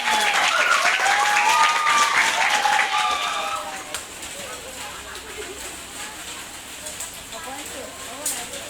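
Junior high school students applaud together in a classroom, brisk dense clapping with excited voices and cheers over it at first, then settling into softer scattered clapping and murmuring.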